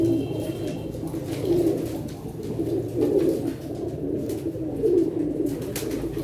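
Several pigeons coo in repeated low, throaty phrases, close by, with a steady background murmur and no talking.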